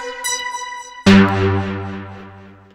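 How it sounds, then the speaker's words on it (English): Hypersaw 2 preset on the Citrus synthesizer in FL Studio: a quiet held chord, then a loud bright supersaw chord strikes and sustains with a slow fade, with no talk. "some basic preset, maybe like Hypersaw 2"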